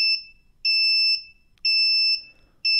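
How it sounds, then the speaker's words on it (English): Active buzzers in a classroom STEAM lesson give loud, shrill electronic beeps, each held about half a second and repeating at a steady on-off rhythm, close and alone. "The class should be filled with sounds of the buzzers."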